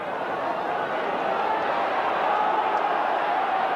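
A football stadium crowd at a 1990 Cup Winners' Cup match between Manchester United and Pécsi Mecsek roars steadily, urging United forward. The sound is a broad, sustained wash of many voices with no distinct peaks.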